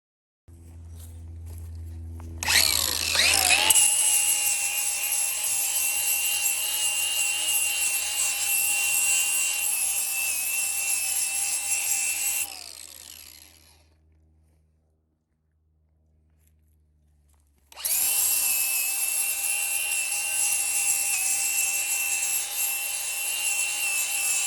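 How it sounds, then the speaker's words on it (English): A DeWalt angle grinder fitted with a flap disc cleans up metal surfaces for mounting hooks on a Bobcat backhoe, a loud steady whine that spins down to silence, then starts again at full speed. "DeWalt grinder out here with a flap disc on it. Start cleaning these surfaces up a little bit."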